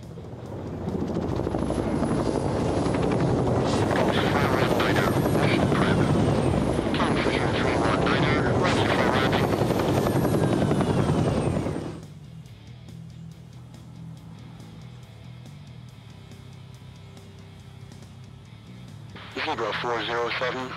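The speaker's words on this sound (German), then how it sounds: "dann müssen wir mal gucken, wie wir hier unsere Helikopter alle betankt bekommen" Helicopter rotors and engines in the naval strategy video game Carrier Deck, a loud steady chopping drone that cuts off abruptly midway, leaving quieter game hum, then returns briefly at the end.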